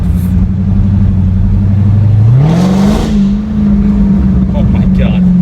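Steady low engine drone from a 2015 Dodge Charger SRT Hellcat, its pitch climbing as it accelerates gently from low speed through a park, heard from inside the car with a voice talking over it.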